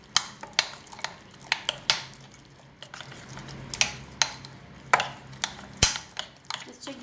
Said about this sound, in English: Okay, so nice whisk with a spoon.